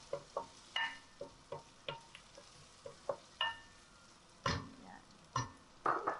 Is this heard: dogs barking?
no